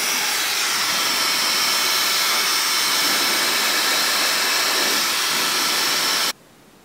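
A hot-air tool or hair dryer blows on a wig, a loud steady whooshing roar with no talk that runs unbroken for over six seconds, then stops abruptly.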